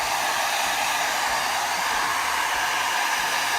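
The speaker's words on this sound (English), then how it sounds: "So I'm going to heat that up and show you how to get the word to come out." A heat gun blows a steady, loud, continuous hiss of hot air onto light tint vinyl car wrap, running unbroken with no talking.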